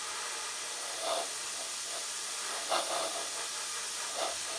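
A continuous airy hiss of an airbrush spraying paint on a 1/48 Tamiya Mosquito model, steady throughout, with a few brief soft bumps rising above it.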